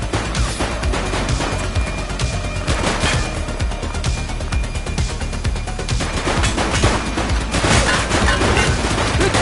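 Heavy gunfire in a police shootout scene rattles without pause for about nine seconds, a loud and dense barrage of overlapping shots and bursts.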